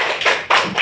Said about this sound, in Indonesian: Tepuk tangan dulu untuk kedua teman kita ini.